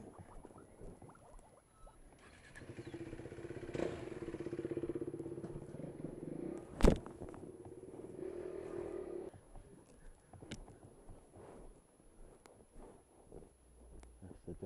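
A courtesy motorcycle idles with quite a high tick over, a low steady engine rumble that swells briefly midway, with a sharp clack and faint voices nearby.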